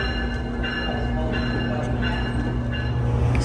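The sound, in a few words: electric train locomotive departing from station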